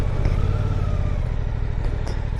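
A Suzuki GSX-8R motorcycle engine runs steadily while riding, a continuous low drone mixed with rushing wind noise throughout, with no clear speech.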